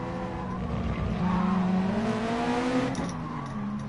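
A Porsche 911 RSR racing in GT Sport with steady engine drone, the pitch climbing then dropping sharply as it brakes into a corner, with a hint of tire noise.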